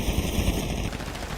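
Rapid automatic gunfire from a GTA V roleplay ambush in a video game, a dense burst of fast repeated shots, loud and close, with a faint electronic tone that cuts out partway through.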